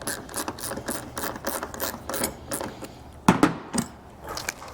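A ratchet turns an M6 bolt into threaded holes while a roof rack is fitted to a Land Cruiser 200 Series, giving repeated close, rasping clicks with two sharper knocks near the end.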